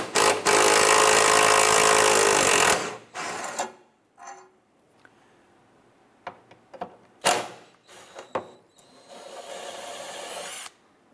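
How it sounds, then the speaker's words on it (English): Bolt on a fuel tank strap of a 2007–2012 Nissan Versa being loosened and removed, likely with a power tool: a loud, continuous buzzing burst for about three seconds, followed by scattered clicks, clinks and short ratcheting rattles up close. "Let's go ahead and loosen and remove this bolt."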